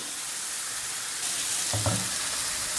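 Shawarma meat frying in a pan with a steady close sizzle throughout, and a brief scrape and clatter near the end as the pieces are turned.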